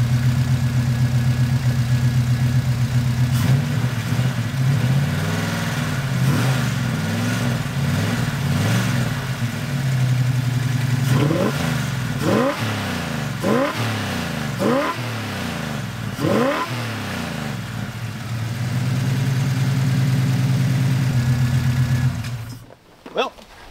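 A turbocharged V8 police car engine revs repeatedly to clear fuel out of its intercooler, loud and close, with rising and falling sweeps in the middle before settling to a steady throb and cutting off at the end.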